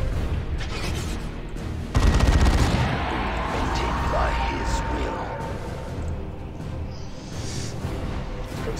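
Sustained gunfire and explosions from the Dawn of War 2 battle, a dense fusillade under game voice lines and music, with a sharp loud burst about two seconds in that keeps rolling.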